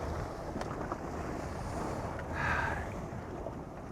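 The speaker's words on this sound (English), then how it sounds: "Got all that water coming over the transom" Sea water surges over the transom of a stone crab boat in rough waters, a broad rushing wash over wind noise that swells briefly near the middle, with no voices.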